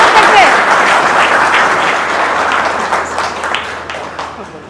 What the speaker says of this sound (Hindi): आइए तालियों के साथ अपने साथी का स्वागत करते हैं